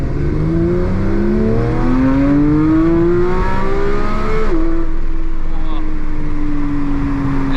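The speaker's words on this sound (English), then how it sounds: "let's now give it some throttle in second gear" A Porsche 911 992 GT3 pulls hard in second gear, its engine note climbing steadily in a loud, rising wail up to a sharp shift, then building again, heard from inside the cabin with a voice talking over it.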